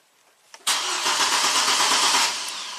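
A 2005 GMC Canyon with a cold start-stall, no-crank fault: a key click, then the starter cranks and the engine catches with a sudden loud, steady roar that holds and eases slightly.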